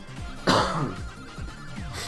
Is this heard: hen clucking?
no